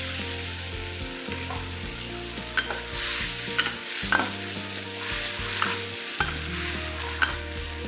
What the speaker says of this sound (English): Add in the sauce and bring it to a boil.